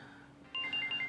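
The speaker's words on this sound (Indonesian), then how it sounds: "Bang Udin, sebentar, ada telepon." A phone ringtone chimes in a short repeating electronic pattern, starting partway through and fairly clear over a quiet room, during a casual conversation with an ojek driver.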